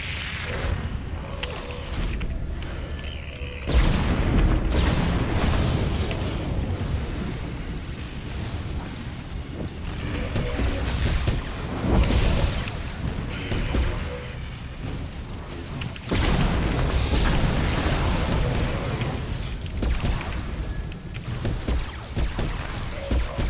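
Missiles exploding during combat in the video game Star Wars: The Old Republic, a sustained roar of dense booms and crashes layered with game effects, loud and continuous throughout.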